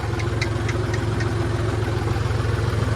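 A tractor engine runs steadily while driving along a wet road, a loud, low, throbbing chug with a constant rhythm and no talk.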